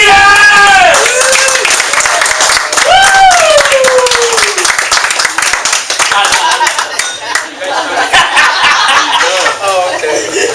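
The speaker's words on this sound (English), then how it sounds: "So at this time, why don't we all give a nice big round of applause for Joseph Rosquites!" Audience at a San Bruno networking event gives a loud, sustained round of applause and cheering for a speaker, with voices and chuckles mixed into the clapping throughout.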